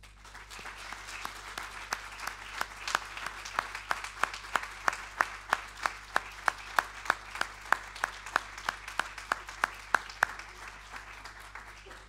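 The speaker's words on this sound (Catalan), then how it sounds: "aquest aplaudiment va per tu." Audience applause at an award ceremony for the Alfons Ortuño Prizes, a steady, even stream of handclaps lasting about twelve seconds, moderately distant and without talk over it.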